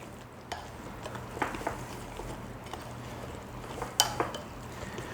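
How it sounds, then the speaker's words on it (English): A spoon stirs a cheddar and mozzarella cheese mixture in a bowl, giving quiet scraping and a few sharp clinks against the dish, faint and sparse. "Make sure I get this all stirred in here really good"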